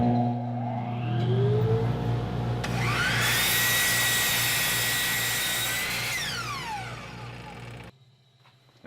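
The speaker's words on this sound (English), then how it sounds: "Now I'll make the same cut on a 2x6 with my dust collector on." A Bosch 12-inch glide miter saw with a dust collector running spins up with a rising whine, then cuts through a 2x6 board in a loud, steady roar over the constant hum of the collector, before the blade winds down.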